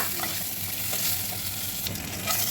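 A hilsa fish head fries in oil with a dense, even sizzle and spitting crackle, close and continuous, with faint stirring and no talking.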